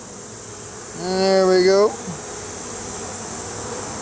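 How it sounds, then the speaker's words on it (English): A honey bee buzzes loudly near an open hive for about a second, a close droning pass that fades into a steady faint hum, with someone speaking briefly. "Busy little bees getting busy."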